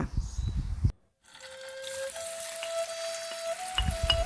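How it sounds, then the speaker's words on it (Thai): Tofu frying in a pan of hot rendered pork-fat oil, a steady close hiss and sizzle with faint crackle after a brief drop to silence, a thin whistle-like tone running through it. "แล้วอีกครึ่งหนึ่งเราจะไปทอดเต้าหู้กันค่ะ"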